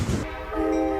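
Freight train with locomotives passing through Atlanta, a loud, close rumble followed by a sustained tonal horn blast, with no voices.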